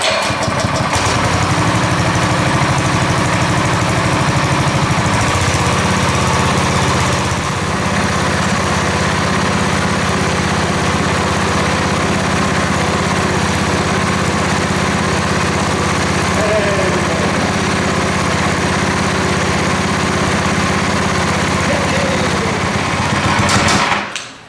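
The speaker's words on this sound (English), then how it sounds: "the engine ran" Loud small engine of a DC generator runs steadily for the whole stretch, a constant mechanical drone with rattling, then cuts off abruptly at the end.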